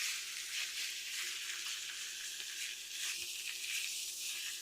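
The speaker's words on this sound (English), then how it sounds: "Let me get my steak on there because my pan seems to be pretty hot." A T-bone steak sizzles in a hot pan, a steady bright hiss of frying fat with small crackling pops throughout, close and continuous with no speech.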